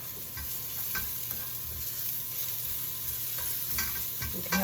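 Garlic sautéing in a pan, a steady soft sizzle with light scraping stir strokes and faint clicks running throughout, fairly quiet and close, no voices.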